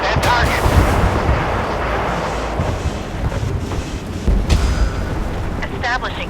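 Warship guns firing in the naval combat game Force of Warships: heavy booming salvos over a continuous low battle rumble, loud and close, with voices talking over the barrage.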